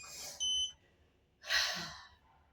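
A short electronic beep from a device switching offline in a cramped space, a brief tonal chirp near the start followed by a second, louder burst a second later, alone with no talking.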